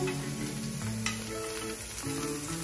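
Everything bagel seasoning sizzles in a hot frying pan, a steady close crackling hiss that runs unbroken with no one talking.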